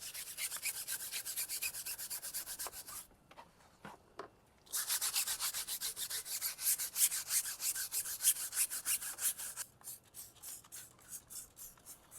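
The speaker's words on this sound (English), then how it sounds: "We're gonna have to perhaps brush it a few times to get." A brush scrubs a chemical brake duster across the surface of a Dodge Challenger, giving a loud, close, continuous rasping swish in rapid strokes. It breaks off briefly midway, then resumes with quicker, choppier strokes, and no voices are heard.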